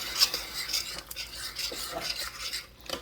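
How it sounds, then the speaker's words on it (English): A spoon scrapes and stirs milk gravy in a pan for biscuits and gravy, with soft irregular scraping and clinks repeating close by, fairly quiet and without talk. "The spoon just helps get everything out of the corners and edges, and you toss it back into the middle so you can get it mixed."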